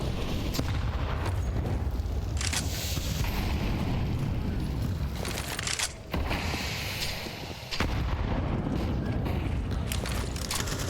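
Grenade explosions in Counter-Strike on the Inferno map during a professional tournament match, a dense, loud barrage of overlapping booms and blasts with brief dips between bursts.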